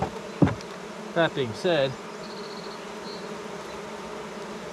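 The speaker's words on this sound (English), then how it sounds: "I have a whole bunch of frickin' bees that need to," Honeybees buzzing around an open nuc hive during an inspection, a close pitched hum with a few louder passes as single bees fly by the mic, while someone speaks briefly.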